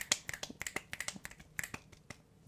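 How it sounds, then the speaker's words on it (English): A person claps their hands about a dozen times in a quick, uneven burst, close and fairly quiet, each clap a sharp short snap with nothing else heard. "That's my thinking clap"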